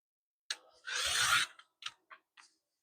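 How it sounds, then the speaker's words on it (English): Quilting fabric being cut to level the end, with a short crisp slicing rasp followed by a few small clicks and taps nearby. "I'm going to cut off the end just to make sure it's level and even."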